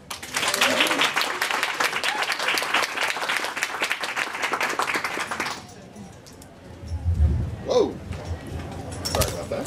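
Audience applause at a comedy panel on a cruise ship, dense clapping for about five seconds that stops abruptly, followed by a quieter room with a person speaking close by and some handling noise.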